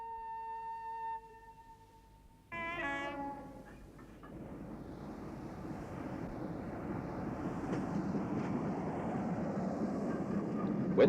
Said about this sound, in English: And Midge and the letters were put on a train.